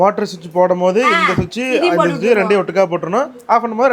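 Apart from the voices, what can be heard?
No distinct noise like a dog, phone or traffic.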